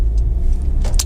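A Honda CR-V 1.6 i-DTEC SR diesel drives along a road, producing a brief, loud, steady low rumble of engine and road noise with a faint light rattle near the end.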